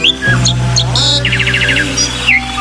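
A jalak starling sings loud and close, mixing whistled tones, rapid chattering trills and sliding notes in a varied, continuous phrase, with a steady low hum beneath.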